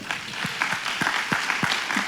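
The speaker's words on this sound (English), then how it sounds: "Give a round of applause for that" Audience applause at a business forum on economic growth in Louisiana, a steady wash of clapping lasting a couple of seconds, with a few separate low thumps or voice bursts standing out beneath it.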